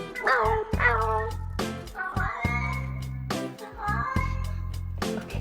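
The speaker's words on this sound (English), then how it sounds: "Go meow. Go meow. Meow, meow." A cat meows several times in a row, with drawn-out, tonal cries, close and clear, over a low rumbling background.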